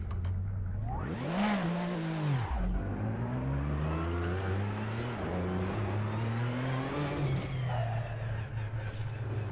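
A race car in Assetto Corsa screams around the Nordschleife, its engine revving high, dropping sharply on a downshift, then climbing through the gears again in a continuous, close, whining drone.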